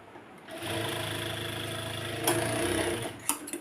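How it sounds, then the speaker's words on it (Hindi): A sewing machine runs a steady, close stitching burst while joining the pocket pieces of a palazzo pant, starting after a brief pause and ending with a few small clicks. "इन दोनों पार्टों को इस तरह से मिलाएंगे और हम सिलाई लगा लेंगे।"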